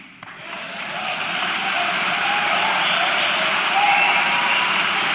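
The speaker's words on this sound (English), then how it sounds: "Why are you all applauding about that?" Applause from a live audience at a talk starts softly, then swells into a broad, sustained wash of clapping lasting several seconds.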